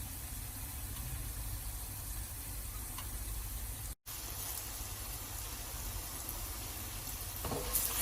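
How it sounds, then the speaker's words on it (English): Spices for chicken curry fry in a pan with a steady, soft sizzle, constant throughout and briefly cut off once midway, with no voices. "all of your spices fry a little bit"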